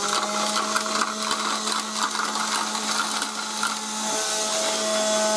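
A 1996 Black & Decker Dustbuster HC4105 handheld vacuum runs steadily at close range with a constant motor whine, while dry pasta pieces rattle and clatter through the nozzle in irregular bursts, without any talking.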